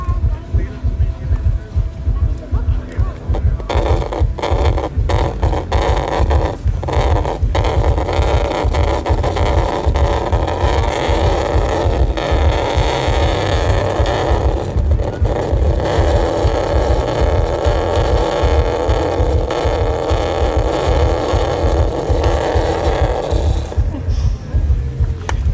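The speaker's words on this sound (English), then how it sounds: "I tried to make some kind of bass rhythm with it. So I cheated a bit with this pedal, bass overdrive." A homemade electronic noise instrument at a Norbergfestival workshop, played through a bass overdrive pedal, pounds out a loud, gritty bass rhythm of dense, fast pulses that continues without a break.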